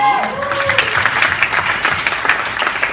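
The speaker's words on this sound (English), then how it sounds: "Give him a round of applause" An audience at a coaching seminar breaks into applause, a dense, steady wash of many hands clapping close by for a few seconds, with a voice briefly audible at the start.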